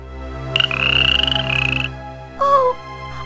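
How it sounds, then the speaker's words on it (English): An animated frog croaks in a children's fairy tale, a tonal warbling croak lasting about a second followed by a shorter second croak, clear and close over a soft musical background. "found herself staring at an ugly green frog."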